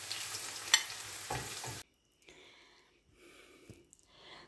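Mushrooms sizzling and frying in a pan, a loud steady hiss with a stirring scrape that cuts off abruptly, followed by quiet clatter and handling sounds.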